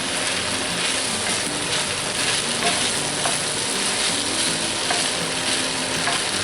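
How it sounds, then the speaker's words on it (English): Bacon fried rice sizzles and fries steadily in a cast iron pan, a continuous close crackle with occasional scraping stirs, no voices. "we're going to let that fry up a little bit before we finish it up"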